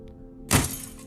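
A rock striking a church's stained glass window, heard as one sudden loud crash and shatter that quickly fades out of near silence.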